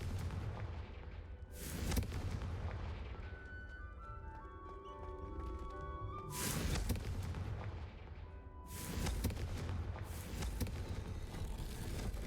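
Spell-casting explosions in the Hogwarts Legacy video game, with several loud bursts that each crackle over a dense, rumbling game soundtrack and thumping effects.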